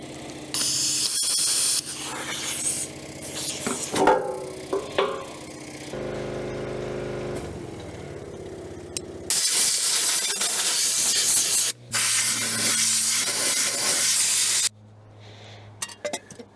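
Diesel fuel hissing and spraying at an injector on an old Allis Chalmers crawler that had sat for years, a loud broadband rush in bursts with a sharp cutoff near the end, mixed with clanks and mechanical noise, no voices.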